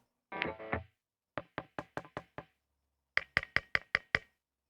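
Bright, sharp tapping with a pick on an electric guitar pickup: a brief rattle, then five evenly spaced taps, a pause, and a quicker run of seven louder taps.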